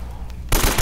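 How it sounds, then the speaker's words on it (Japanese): Rapid bursts of automatic gunfire from the video game Uncharted break in suddenly after a quiet stretch, loud and dense. "結構撃ったよね。"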